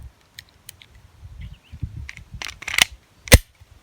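A Taurus TX22 pistol fires Winchester rounds, giving a few sharp cracks including one loud close report near the end, among quieter handling clicks.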